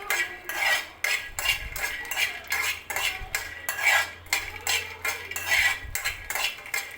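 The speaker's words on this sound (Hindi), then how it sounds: "मखाना भी मैंने डाल दिया है और इसको अच्छे से जो है कि फ्राई कर लेंगे" Fox nuts (makhana) frying in a pan under a spoon, giving a steady run of loud, close metallic scrapes and rattles that repeat in quick, uneven strokes with no talk.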